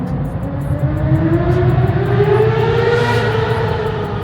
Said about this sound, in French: Les motos ici.